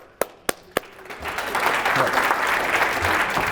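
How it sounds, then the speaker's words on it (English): At a live persuasion and sales seminar, a few sharp single claps ring out, then the audience swells into continuous applause for a volunteer. "Can I get a volunteer really quick? Round of applause."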